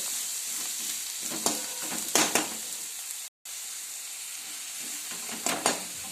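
Coriander frying in hot oil for a village-style matki (moth bean) curry: a soft, steady sizzle with scattered crackles and a few louder spits, close and alone, with a brief gap of silence partway through.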